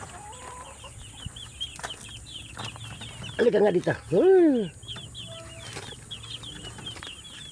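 Chickens cluck softly in a yard while someone speaks briefly. Scattered bird chirps are heard, and near the middle a louder burst of vocal cries rises and falls.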